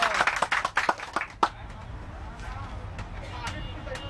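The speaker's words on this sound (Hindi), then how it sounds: "ताली बजाओ सब।" A group of people clapping together for departing migrant workers in Mumbai, a short burst of scattered applause lasting about a second and a half under crowd chatter, then voices and background noise.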